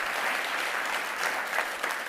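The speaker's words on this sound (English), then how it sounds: "can we give a massive round of applause to all 20 of the organizations that presented here today?" A room full of people claps steadily, a dense wash of applause at moderate volume throughout.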